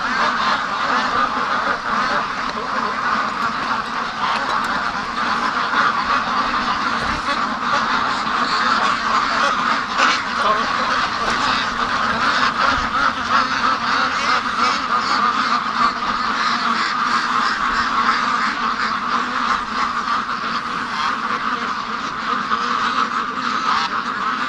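A flock of ducks quacks and honks continuously in their pen on a rainy day, a dense, loud, overlapping chorus close at hand.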